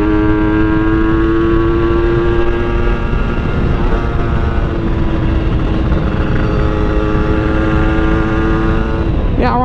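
Motorcycle engine fitted with a non-original PWK 30 carburetor on a test ride, droning steadily and loud at close range with a quick rev rising at the end, no talking.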